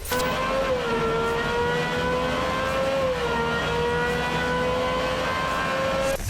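An Aston Martin Valkyrie hypercar engine revs hard and continuously on a dyno at Cosworth, its pitch rising and dipping in a sustained, loud mechanical wail with no talking.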